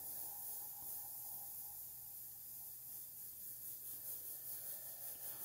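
A Badger Sotar airbrush hisses in a faint, steady stream as it sprays paint, with no voices over it.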